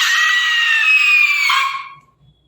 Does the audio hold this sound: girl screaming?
yes